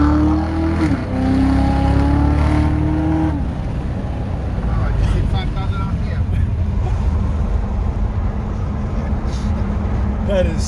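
Supercharged Corvette Z06 Stingray driving on blacktop, a loud steady engine drone and road roar from inside the cabin, with a brief rising rev early on.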